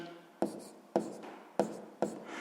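A pen writes by hand on paper while working a 6th-grade maths exercise, four quick strokes spaced about half a second apart, close and fairly quiet with no speech.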